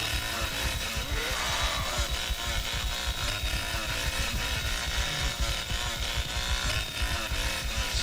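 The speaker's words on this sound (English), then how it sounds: "I can't get my chainsaw overheaded here" A chainsaw roars continuously in the Texas Chain Saw Massacre game, a loud dense buzzing snarl with rapid pulsing revs that stays steady and close throughout, with no talk over it.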